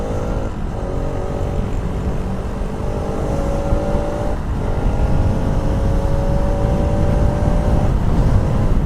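A Bajaj Pulsar RS 200 motorcycle with a six-speed gearbox runs at full throttle, its engine note droning steadily and rising in pitch through the gears, with wind noise heavy throughout.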